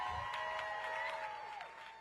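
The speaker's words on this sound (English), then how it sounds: "One more Boston round of applause for Mr. King" Applause from an outdoor crowd at a rally in Boston marking the 60th anniversary of the 1965 Freedom Rally, a steady wash of clapping that holds for about two seconds and fades slightly at the end, heard from some distance.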